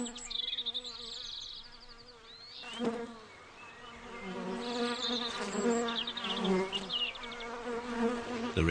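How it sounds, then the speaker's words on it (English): Honeybees buzzing around a hive in a woodland garden, several close insects droning in overlapping passes that rise and fade, fairly quiet, with no voices. "The honeybees carry the pollen back to the hive in the woodland garden."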